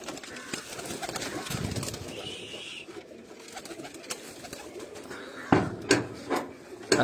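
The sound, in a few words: racing pigeons cooing on a rooftop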